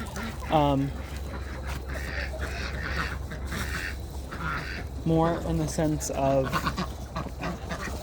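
Ducks stuck somewhere, giving a few nasal quacks in short clusters near the start and again later, over a steady low background hum.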